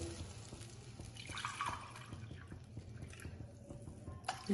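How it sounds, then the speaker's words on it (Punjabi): Two cups of water poured into a pan of spinach fried with onion for spinach Maggi noodles, giving a soft, close splashing and dripping trickle that runs for a few seconds. "ਹੁਣ ਇਹਦੇ ਵਿੱਚ ਆਪਾਂ 2 ਕੱਪ ਪਾਣੀ ਪਾ ਦਿੰਨੇ ਆ"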